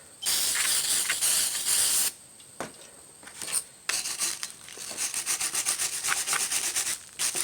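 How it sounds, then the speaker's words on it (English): A hissing spray burst is followed by repeated rough scrubbing strokes of a stiff brush against a rusty rear brake part of a 2004 Chevy Impala, close and rhythmic. "we're gonna spray it and use a hard brush"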